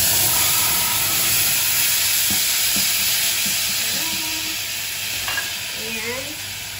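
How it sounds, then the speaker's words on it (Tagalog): Pasta boiling in a pot of water is stirred, with a steady bubbling, hissing rush throughout and a few soft scraping sweeps of the spoon, close and continuous with no talking. "We're gonna mix it and we'll let it boil there for a while."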